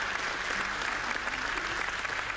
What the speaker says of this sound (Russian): И, конечно же, заслуженные аплодисменты зрителей.